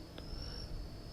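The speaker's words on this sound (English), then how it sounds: "His voice is so calming with the crickets." Crickets chirp in a constant high-pitched trill, faint and steady in the background of a quiet room, with no other sound standing out.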